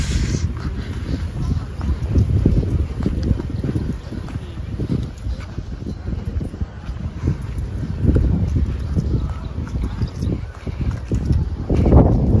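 Strong wind sweeps across a beach resort in Calatagan, Batangas, as a steady, loud low roar and rumble that surges and eases over the whole stretch, with faint higher background sounds.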